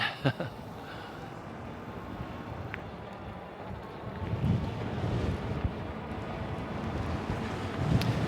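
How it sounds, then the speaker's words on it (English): Strong wind buffets the microphone in rumbling gusts while riding an Engwe E26 e-bike, swelling louder toward the end, with faint water movement beneath. "Yeah, definitely windy."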